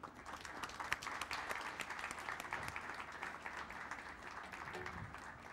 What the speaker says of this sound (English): please give it one more time a round of a warm applause for Amber Galloway